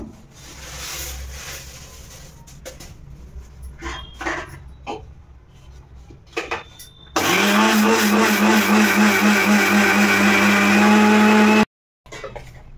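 A kitchen mixer grinder starts abruptly and roars loudly and steadily for several seconds while grinding sugar into fine powder, then cuts off. Quieter handling clatter and background sounds come before it.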